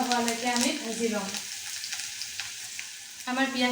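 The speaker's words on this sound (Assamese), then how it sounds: "আমাৰ পিঁয়াজখিনি ভজা হৈ গ'ল" Chopped onions, nearly browned, fry in oil for sesame chicken. A soft, continuous sizzle runs throughout, framed by tonal, voice-like sounds at the start and end.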